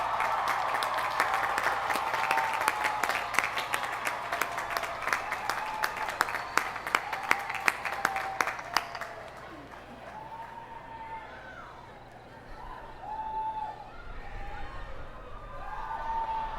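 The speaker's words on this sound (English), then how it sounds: "give those special people a well-deserved round of applause." Graduates applauding at a college commencement ceremony, a broad sustained round of clapping with sharp individual claps for about nine seconds, then fading to scattered murmur and crowd noise.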